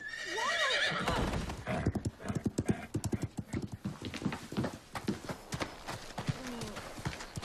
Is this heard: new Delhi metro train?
no